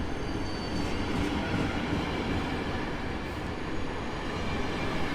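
Train rolling through Warszawa Zachodnia station at night, a steady dense rumble and roar of wheels on rail holding loud and close throughout with no break.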